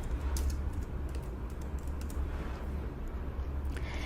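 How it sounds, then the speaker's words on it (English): Quick keystrokes on a computer keyboard as a city name is typed, a short run of light, faint clicks over a low background hum. "if I type New York"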